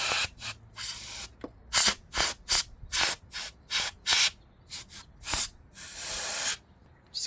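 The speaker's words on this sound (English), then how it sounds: "go ahead and spray some compressed air down here by the coils" Compressed air sprayed around the ignition coils in a Hyundai Tucson engine bay to clear debris, a series of close, loud hissing bursts of varying length, some short and some sustained, with brief pauses between.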